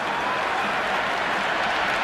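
Dense, sustained applause from a cricket stadium crowd at a Sri Lanka versus England T20 match, a loud, even wash of clapping with no pauses.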